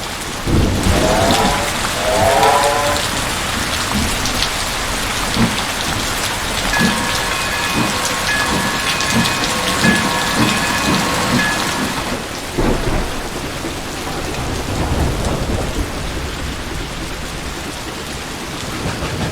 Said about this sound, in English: this rain is insane